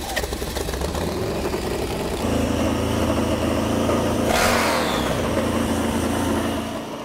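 An old, long-neglected motorcycle engine firing up and revving, a loud rough running note that climbs into a sharp rev, then settles and tails off, with no talk.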